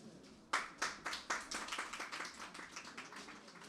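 Audience at a mushaira poetry gathering claps to welcome the chairman, individual claps starting sharply then thickening into a moderate, fairly close round of applause.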